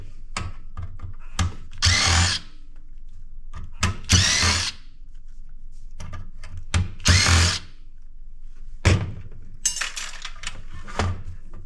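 A power drill works at screws in electronic scrap in short whirring bursts, close and loud, separated by quiet gaps with small metallic clinks and handling noises.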